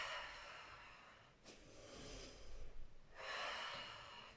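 Soft breathing during a slow stretch-and-strength routine for restless arms and legs, with a few faint, airy inhales and exhales rising and fading, close and quiet with no talk.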